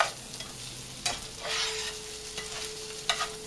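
Egg and cheese omelet frying in a pan for breakfast, a soft steady sizzle with a few sharp clicks and scrapes of stirring, close by with no talking.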